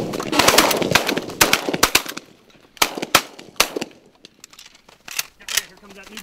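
Repeated shotgun blasts during a pigeon hunting contest, loud sharp reports in quick bursts, some doubled, with distant echoing shots and a voice talking between volleys.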